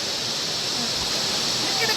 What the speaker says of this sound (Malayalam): ഇത് കല്ലാറിൽ നിന്ന് മാങ്കുളത്തേക്ക് പോകുമ്പോഴാട്ടോ ഈ റോഡ് സൈഡിൽ തന്നെയാണ് ഈ വെള്ളച്ചാട്ടം, ഈ അരുവി ഉള്ളത്